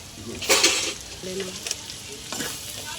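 Fried potatoes and pointed gourd with turmeric and red chilli sizzle in a pan as a spoon stirs, giving a couple of scraping, hissing bursts with quieter frying between them.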